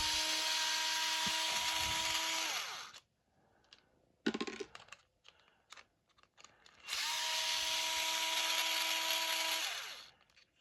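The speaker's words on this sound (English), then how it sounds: "And we're going to remove these 2 top screws." A power drill spins out the top screws on a Traxxas EZ Start starter motor, two long steady whirring bursts with a busy stretch of clicks and handling noises between them, close and loud.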